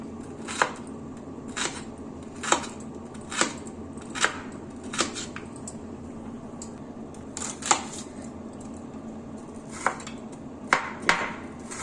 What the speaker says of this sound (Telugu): ఆనియన్ సన్నగా తరగాలండి చాలా సన్నగా తరగాలి